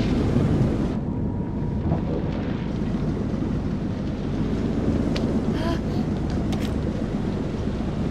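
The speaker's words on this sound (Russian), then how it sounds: "Узнай, сколько продлится шторм." Stormy weather in the horror video game Man of Medan, a steady roar of wind and rumbling thunder filling the scene at constant loudness with faint higher crackles, and no clear talk over it.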